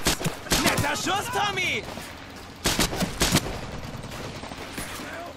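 Gunfire from the video game Medal of Honor: sharp bursts of shots around 0.5 s and again near 2.7–3.3 s, with in-game voices and radio-like chatter running underneath.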